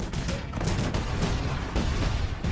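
Artillery pounding enemy mines in the real-time strategy game Cossacks 3, a dense, continuous barrage of overlapping booms and crackling shots at steady loudness throughout.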